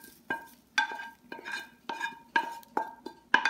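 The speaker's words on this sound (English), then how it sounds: "Oh wait, I got to stir my onions, don't I?" A utensil stirs onions in a pan with about eight distinct scraping strokes, each a sharp metallic clink and scrape followed by a soft fading sizzle, close and clear with pauses between, no voices.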